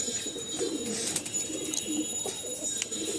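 Soft, repeated cooing of pigeons kept in a loft, low throaty calls murmuring steadily at moderate distance with faint clicks and no speech.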